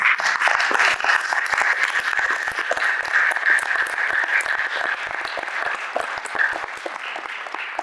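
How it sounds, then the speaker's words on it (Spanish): An audience at a film talk on documentary and fiction gives a round of applause, a dense steady patter of many hands clapping at moderate volume for about eight seconds, thinning a little toward the end. "vamos a darle un aplauso de nuevo a Diego para..."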